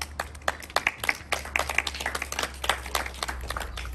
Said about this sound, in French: Merci Laurent, tu mérites nos applaudissements